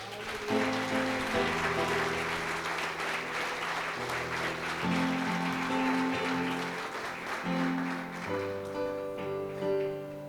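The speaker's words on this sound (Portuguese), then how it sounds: "Você pode aplaudir o Senhor?" A church congregation applauds during an Easter service, a steady wash of clapping running the full length while sustained keyboard or worship music chords play beneath it.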